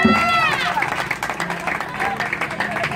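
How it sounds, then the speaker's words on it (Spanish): A church congregation at an evangelical service breaks into loud, crowded applause that runs steadily throughout, mixed with shouting voices and general crowd noise. "Dale un aplauso al que está vivo"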